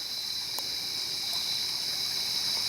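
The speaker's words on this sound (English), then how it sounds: "I'm up on the banks of this creek." A creek swollen after heavy rain flows in a steady, unbroken rush heard from its bank, with no one talking.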